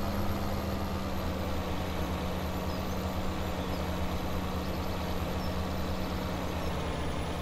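Tractor engine in Farming Simulator 2017, set in the Pacific Northwest: a steady, loud diesel drone with a low rumbling hum, continuous and unchanging throughout, with no talk.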